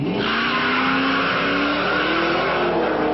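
Modified Pontiac GTO drag racing down a quarter mile at an amateur meet, engine roaring loud and steady with a rising pitch and tire squeal, continuous for the whole stretch with no voices.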